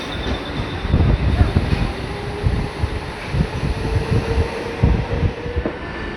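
A 15-car Mumbai suburban local train running between Mumbai CST and Thane, a loud close rumble of wheels with rhythmic clacks over rail joints and a faint high squeal, steady throughout.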